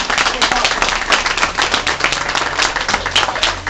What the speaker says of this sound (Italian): voglio un applauso per Carlo